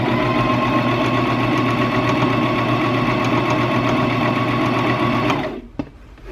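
A sewing machine running a long line of large stitches on a baby blanket, a loud steady mechanical whir with rapid needle knocking that stops near the end, followed by a single click.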